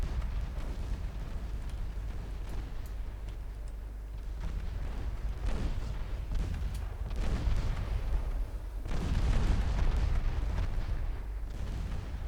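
Naval guns fire in Ultimate Admiral Dreadnoughts, a steady series of deep booming blasts and rumbling impacts over low battle noise, with heavier salvos toward the end and no talk.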